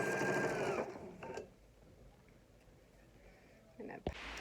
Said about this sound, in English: I'm just sewing both of those right now.